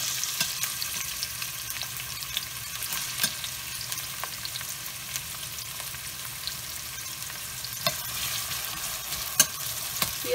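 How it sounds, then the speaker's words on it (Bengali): Onions fry in a pan with a steady, close sizzle that never lets up, broken by occasional soft scrapes and clicks from stirring. "পেঁয়াজটা একটু হালকা ব্রাউন করবো"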